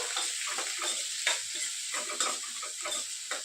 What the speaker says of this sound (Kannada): ಈಗ ಈರುಳ್ಳಿ ಹಾಕಿ ಫ್ರೈ ಮಾಡಿ ಈ ರೀತಿಯಾಗಿ